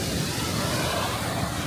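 Sea waves wash onto a beach of mixed sand and pebbles, forming a steady, close, broadband rush of surf that fills the short stretch with no talking.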